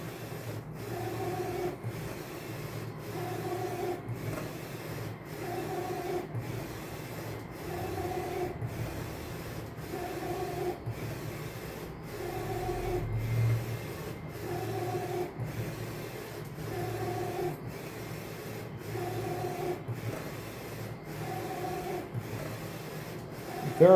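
J16 printer printing a canvas, its print head sweeping back and forth in a regular rhythm of repeated passes roughly every two seconds, each with a mechanical rubbing whir, close and steady with no speech.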